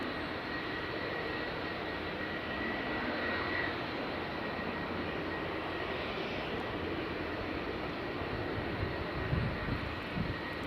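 An Aer Lingus airliner taxis at Edinburgh Airport, its engines giving a steady, broad roar with a faint whine that holds at a fairly constant level throughout, without talk.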